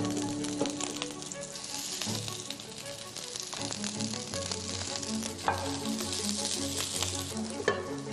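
Stuffed morel mushrooms, laid filling side down in a pan with a little sesame oil, fry with a loud, continuous sizzle and crackle, with occasional stirring clatter and no talk.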